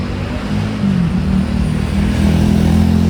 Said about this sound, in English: Garbage truck. They're cleaning up the town.